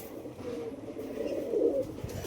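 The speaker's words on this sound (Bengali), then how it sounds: "এটা হচ্ছে আমার আর এক জোড়া কালাঙ্কা পায়রা" Kalanka pigeons, a pair kept as a fancy breed, coo in low, throaty, rolling phrases that swell near the end, close and steady over faint background noise.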